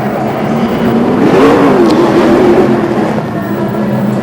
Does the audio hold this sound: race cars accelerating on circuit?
yes